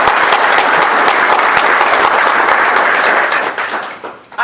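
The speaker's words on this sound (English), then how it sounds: "So a round of applause for them." Audience at a criminal justice program event applauds steadily, a dense, loud wash of clapping that holds for about four seconds before tapering off near the end.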